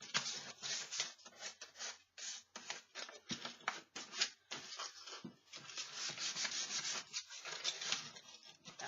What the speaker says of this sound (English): we're going to take a piece of sandpaper, and we're just going to go in and rough everything up a little bit